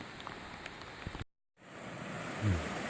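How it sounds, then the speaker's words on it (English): Heavy rain pours on a trail near a suspension bridge, a dense, hissing wash of drops that fills the clip. The sound cuts out briefly partway through, then returns with a low thump near the end. "It's just started pouring rain again"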